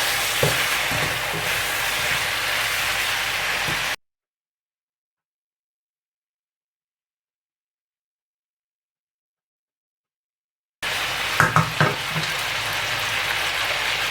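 Chicken gizzards frying in a pan give a steady, fairly loud sizzle, broken by a long silent gap in the middle before the sizzling resumes with a few sharp crackles.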